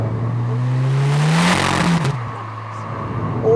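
An APR-tuned VRS245 car with a 2.0L turbo engine accelerates hard, its loud engine note climbing steadily through the revs, then a brief drop at a gear change before pulling again.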